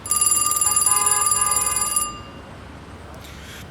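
A telephone bell rings in a loud, rapid trill for about two seconds, then stops, leaving a quiet room with faint noise.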